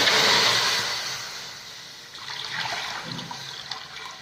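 Tamarind water pours and splashes steadily into a pot of sambar, loud at first, then settling into a softer bubbling trickle.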